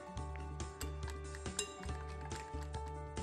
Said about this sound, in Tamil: பால், முட்டை, ஜீனி எல்லாம் நல்லா மிக்ஸ் ஆயிடணும்.